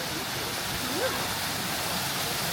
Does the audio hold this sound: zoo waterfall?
yes